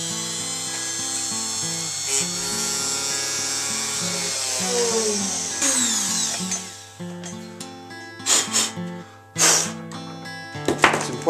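A power drill whines steadily while boring a hole into a wooden guitar neck for a string tree, its pitch shifting as it bites, followed by a few sharp bursts near the end.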